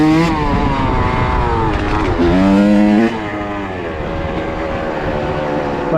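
Motorcycle engine during a no-hands wheelie, close and loud, revving and holding steady tones that rise and fall, then settling to a lower drone.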